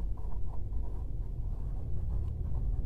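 Writing by hand during a primary-school French lesson, likely chalk or marker on a board: a steady, dense scratching texture, moderately close and continuous, with no clear speech over it.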